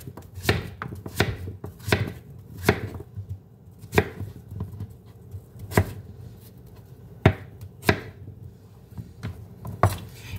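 A knife chops a bottle gourd (opo) into smaller pieces on a board, a series of crisp, close cuts at an uneven pace, some quick pairs and some isolated strokes, with no talking.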